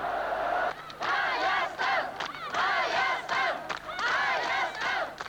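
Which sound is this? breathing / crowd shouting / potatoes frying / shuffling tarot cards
crowd shouting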